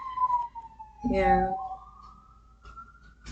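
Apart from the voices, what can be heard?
sirens passing by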